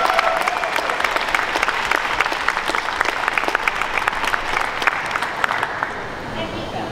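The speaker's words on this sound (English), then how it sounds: "Please give a big round of applause to Amy." An audience at a regulations conference and seminar applauds a speaker being introduced, dense sustained clapping from a room of people, fairly loud and steady, with voices faintly mixed in.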